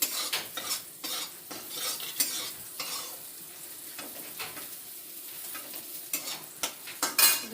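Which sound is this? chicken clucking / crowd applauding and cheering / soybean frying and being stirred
soybean frying and being stirred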